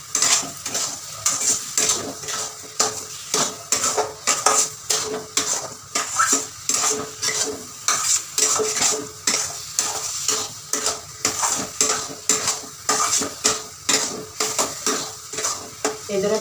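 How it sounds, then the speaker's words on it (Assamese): A utensil scrapes and clinks rhythmically against a pan, stirring sugar into palm fruit pulp as it fries, with a soft sizzle beneath the steady strokes that repeat about once a second, close up and with no talking. "চেনিখিনি ভালকৈ মিক্স কৰি দিওঁ।"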